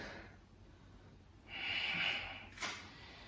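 Breathing in a yoga class, heard as a faint, quiet stretch of air and then a louder, breathy exhale ending in a brief sharp snort-like puff, with no talking.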